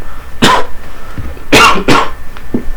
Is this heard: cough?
yes